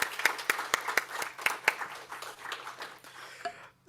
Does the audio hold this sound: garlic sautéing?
no